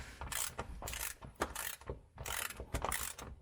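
Ratchet clicking in bursts as a mechanic tightens the differential bolts on a BMW E36, close up and loud, with repeated rapid pawl clicks separated by brief pauses between strokes.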